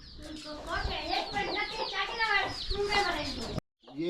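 An Aseel hen clucks among her small chicks, with a busy, continuous mix of close clucks and chirps before the sound cuts off briefly near the end.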